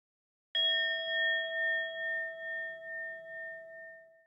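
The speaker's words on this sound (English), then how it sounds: "That's the bells." A bell rings once with a sharp strike, then its clear, sustained tone hangs and slowly fades, with a faint low rumble beneath and no voices.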